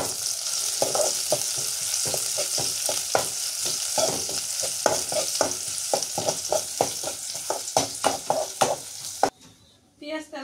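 Onions and two split dried red chillies frying in oil, a constant bright sizzle with rapid, irregular scraping taps of a spatula stirring the pan, close and lively, ending in a brief quieter moment.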